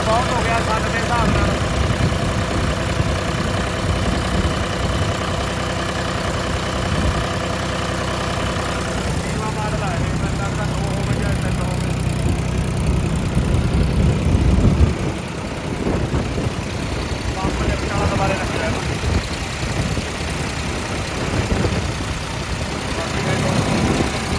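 A generator engine runs on a farm to fill seedling nursery beds during a two-day power outage, giving a steady, loud, low droning hum throughout, with people talking over it.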